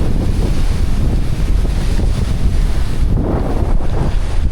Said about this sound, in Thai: ลมพัดโพนแหงเลยตอนนี้